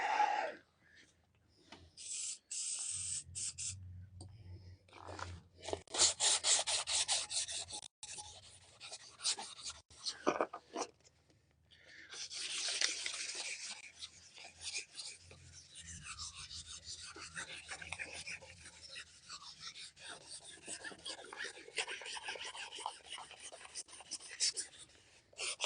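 Wet and dry sandpaper rubs over a part during a ZT1844 cutterhead bearing replacement, with intermittent scratchy rasping strokes in uneven bursts and pauses, close and moderate in level.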